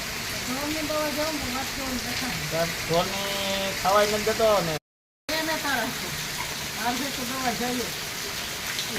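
Steady rain pours down throughout, with a person talking over it; a brief dropout of silence interrupts midway.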